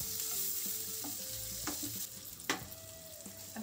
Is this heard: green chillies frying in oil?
yes